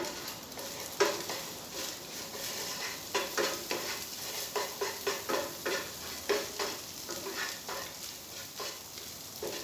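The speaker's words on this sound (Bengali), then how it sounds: "তারপর ডিম এবং রসুন একসাথে মিক্স করা হয়ে গেলে কাঁচামরিচ কুচি দিয়ে দিতে হবে।" Eggs and browned garlic frying together in a pan, with a continuous soft sizzle and a run of quick, rhythmic spatula scrapes and taps across the middle, close up, with no voices.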